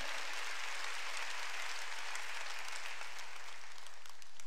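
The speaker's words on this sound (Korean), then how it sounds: "상상력에 전혀 끄면 안 되는 걸 믿으면 박수로 하나님께 영광해요" Church congregation at a Wednesday worship service applauding to glorify God, a broad, even patter of many hands heard at a distance and fairly faint, continuing steadily throughout.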